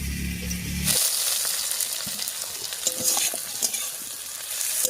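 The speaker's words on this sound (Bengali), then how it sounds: "বেগুনটা দিয়ে আলুর সঙ্গে একটু মিশিয়ে নিলাম, এবারে দিয়ে দিচ্ছি গুঁড়ো করা মশলাটা" A spoon stirs fried eggplant, potatoes and ground spices in a hot pan, making close, repeated scraping and stirring sounds over a continuous sizzle.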